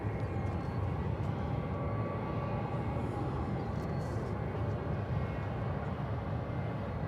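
A Boeing 757 airliner lifts off at a busy airport, its engines a steady, broad roar that holds loud and constant throughout, with no voices over it.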